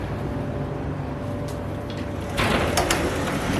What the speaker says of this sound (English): Can you open up the door there behind you?